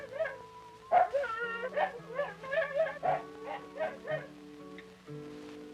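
A dog barks and yips in a rhythmic series of short, close, fairly loud calls, some whining, with a tone on an old 16mm film soundtrack.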